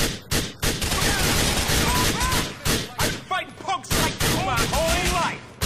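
Rapid, loud gunfire from a GTA IV shootout in Alderney, with dense bursts of automatic fire and heavy thumps continuing throughout over faint whistling tones.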